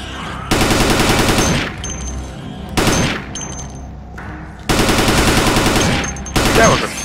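Automatic gunfire from the video game Dead Effect 2 comes in three loud, sustained rapid-fire bursts separated by short pauses, with a brief crack between them.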